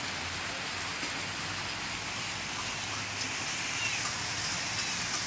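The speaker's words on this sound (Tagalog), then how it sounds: "Tapos ang ulan." Steady, dense rain falling across a surface in Malolos, Bulacan, Philippines, a continuous hiss of drops with no pauses and no one speaking.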